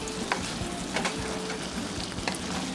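Gnocchi with butternut squash and sausage sizzling in a pan, a dense, steady crackle broken by soft intermittent clicks as the pan is tossed, no talk.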